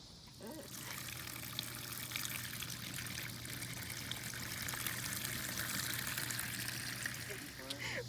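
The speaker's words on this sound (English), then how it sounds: "fill the bucket of water up where you want it to be" Water pours steadily into a bucket in a continuous rushing trickle lasting several seconds, with a faint voice at the start and end.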